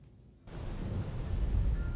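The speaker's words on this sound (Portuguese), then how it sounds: "Nem a chuva espantou os participantes da corrida, como a Aline" Rain falling with low rumbling thunder during an outdoor charity family run and walk raising funds for a hospital in Rio Preto; steady broadband downpour that starts abruptly after a brief quiet moment and continues fairly loud.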